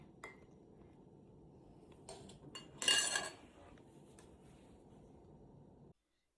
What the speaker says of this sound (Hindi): अच्छे से मिक्स कर लेंगे इसे।